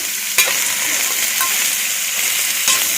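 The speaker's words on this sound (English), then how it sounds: "Okay, it's simmering nice." A stew of carrots, onion, chili peppers, garlic and chopped meatballs simmers in a pot with a steady, close bubbling hiss, broken by a couple of brief clinks and stirring scrapes.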